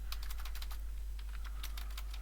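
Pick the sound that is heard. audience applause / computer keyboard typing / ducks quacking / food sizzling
computer keyboard typing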